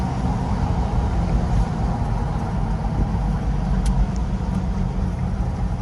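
A steady low engine rumble from a moving 6.7 Powerstroke truck during a brake test, continuous and fairly loud, with no clear braking squeal standing out.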